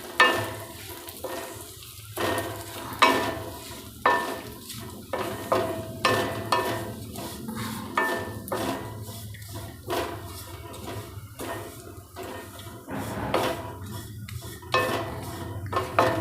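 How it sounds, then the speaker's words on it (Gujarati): Poha stirred and roasted in a pan over low heat, with scraping spoon strokes against the metal and clinks recurring every second or so, close and moderately loud, no talking. "પૌવાને પણ એવી રીતે ધીમે તાપે આપણે શેકી લઈશું"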